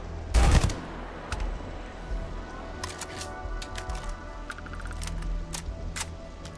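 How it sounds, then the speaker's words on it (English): Gunfire in the sci-fi video game Starfield: a loud burst near the start, then a run of sharp, scattered shots over a steady background hum. "Felt like there was another set of gunfire going on just then."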